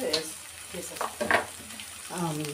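A masala mix for kabuli chana curry is stirred in a pan, with a few scraping strokes over a soft sizzle, close and moderately loud, and brief voice-like tones showing at the end.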